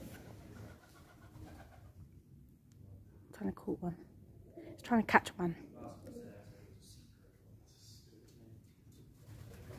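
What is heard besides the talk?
pigeons cooing in abandoned airbase building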